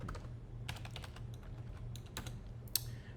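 Close, quiet keystrokes tap out in short irregular bursts on a computer keyboard while Swift code is written, over a low steady hum.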